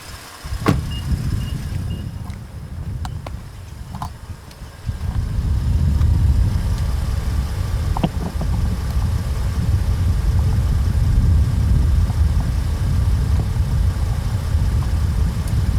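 A 2020 Nissan Frontier pickup truck idles steadily outdoors, heard by the exhaust with a low rumbling note, a few clicks early on before the drone settles and holds constant.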